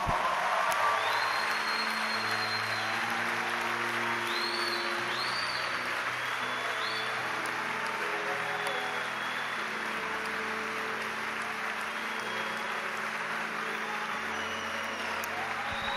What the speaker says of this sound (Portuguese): pode aplaudir o Senhor, vamos aplaudir.